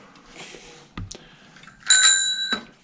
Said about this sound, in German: Klingel funktioniert